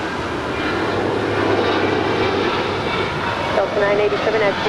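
A Delta Boeing 737-800 at Los Angeles airport produces a loud, sustained jet engine roar, with a voice and radio chatter over the noise.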